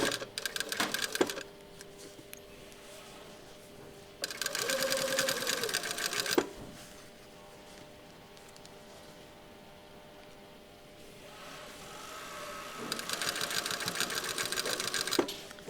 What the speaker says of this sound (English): I'm going to stitch this bind onto the sleeve opening here, pin stitch.